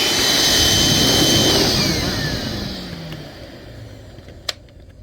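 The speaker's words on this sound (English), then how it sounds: "I'm gonna try to vacuum this stuff out." A small vacuum cleaner whirs loudly with a steady high-pitched hum, then eases to a lower drone, ending with a brief sharp click.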